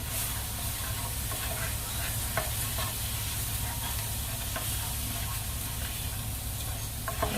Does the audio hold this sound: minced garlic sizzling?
yes